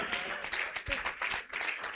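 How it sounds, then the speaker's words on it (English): An audience applauding at an event, a brief, fairly faint burst of scattered clapping with uneven, individual claps standing out. "please give her a round of applause"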